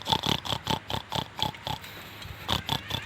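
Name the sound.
pig oinking, a 'babi ngepet' pig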